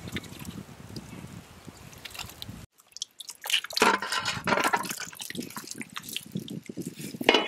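Yogurt (curd) is added to raw chicken for a no-oven tandoori chicken marinade. A low watery background gives way after a short silence to close, wet squelches, plops and drips.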